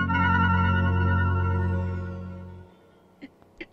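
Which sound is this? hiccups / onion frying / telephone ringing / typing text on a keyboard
telephone ringing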